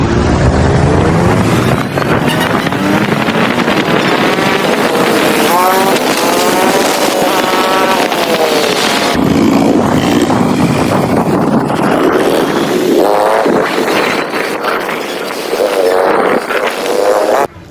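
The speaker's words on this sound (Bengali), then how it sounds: "আমার বাইকের এক্সজস্টের যে সাউন্ডটা পুরাই অস্থির একটা সাউন্ড আসছিল" A motorbike rides along a road toward a village fair, its exhaust droning loudly and continuously with rising and falling engine pitch, mixed with strong wind buffeting on the microphone.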